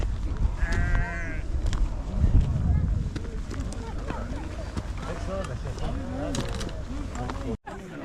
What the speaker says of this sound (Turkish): 500 koyun varmış.